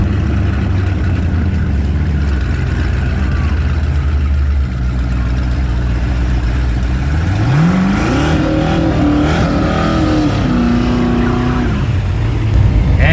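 A twin-turbo Cadillac CTS-V drag racing roars with a loud, sustained engine drone, then climbs sharply in pitch as it accelerates hard, with a rising whine layered over the exhaust near the end.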